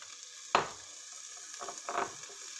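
Fatty pork pieces fry in a little oil in a wok, giving a soft sizzle with a few sharp stirring clatters and bursts, quiet and close.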